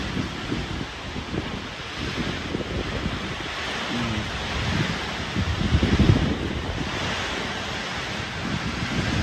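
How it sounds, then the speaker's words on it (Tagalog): Strong wind batters a microphone outdoors during a typhoon, a constant loud rumbling rush with gusts swelling and easing, no talking. "Grabe ang lakas ng hangin."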